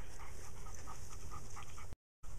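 Several rescue dogs, including a young golden Sheltie mix and a border collie blue heeler mix, pant steadily at close range with faint whimpers mixed in, continuous and fairly loud before a brief silent gap near the end.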